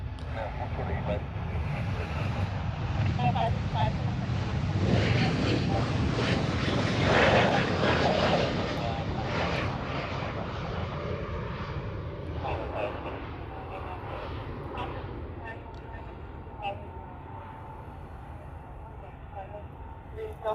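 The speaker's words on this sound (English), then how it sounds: "next one is a 717. It's coming in from Kailua Kona." A Boeing 717 airliner arriving from Kailua Kona in Hawaii, heard as a broad jet roar that swells to a peak midway and then slowly fades as it passes, with faint talk nearby.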